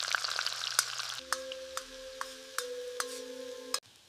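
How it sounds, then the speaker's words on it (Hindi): Finely chopped onion frying in hot oil or butter in a kadhai, a soft continuous sizzle with light stirring clicks and a few faint tonal pings over it, fairly quiet and without talk. "अब इसमें बारीक कटा प्याज डालो और सुनहरा होने तक भूनो।"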